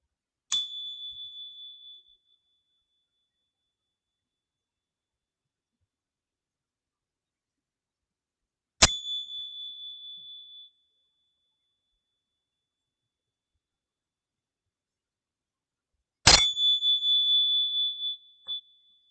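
Meditation bell struck three times alone in silence, each clear ringing tone sustaining for about two seconds before fading, spaced several seconds apart, the last strike ringing longest.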